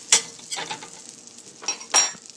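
Butter melting in a pan for an omelet, a light sizzle broken by several sharp clinks and scrapes as the pan is swirled and handled, close and fairly loud, no voices.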